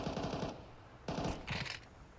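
Galil rifle fire in a professional Counter-Strike match, with two bursts of rapid automatic shots about half a second apart, loud and close, over steady game ambience.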